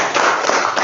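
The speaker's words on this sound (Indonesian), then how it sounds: "tepuk tangan untuk Abigail." Classroom applause for a pupil, a short burst of many hands clapping briefly and evenly at moderate loudness.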